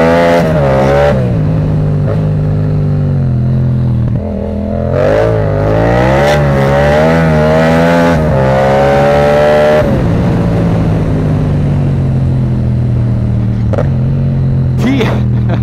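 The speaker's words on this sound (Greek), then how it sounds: "Πετάς μισό ξερό γκαζό και κάνει κράου κατευθείαν" A car engine revs hard again and again with a short blip of throttle, pops and crackles from the exhaust, loud and close, while people talk over it inside the car.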